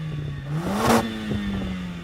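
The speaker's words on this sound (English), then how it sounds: "Let's compare the sound from these two 2-litre engines," A Mercedes-AMG 2-litre engine gives one short, sharp rev that rises and falls within about a second, close and fairly loud over a low idle.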